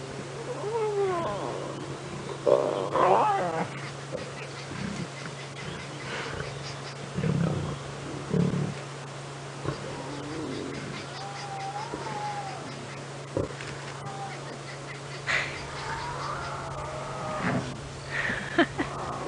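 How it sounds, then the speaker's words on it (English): Lion cubs of the Nkuhuma Pride squealing and fussing on safari, scattered high whines and yelps of varying loudness over a steady vehicle engine hum, no talking. "Squealing, fussing cubs."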